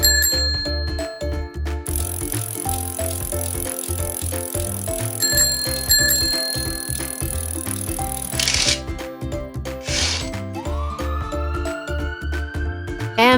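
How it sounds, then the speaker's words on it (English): A bicycle rolls along with a steady rattling, clicking mechanical rhythm while its bell rings out in bright repeated dings, loud and close throughout. "Bicycle."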